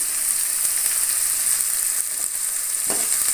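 Green chilies frying with onions in a pan for mutton gravy: a steady, loud, hissing sizzle with faint crackles throughout, no voices.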